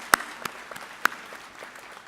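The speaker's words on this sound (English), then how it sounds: "I propose a round of applause for all the nominees" At the SANParks Kudu Awards ceremony, an audience claps for the nominees in a thin, scattered burst: a couple of loud near claps stand out over a soft patter of distant hands.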